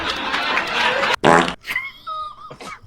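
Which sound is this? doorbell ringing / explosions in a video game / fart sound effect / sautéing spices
fart sound effect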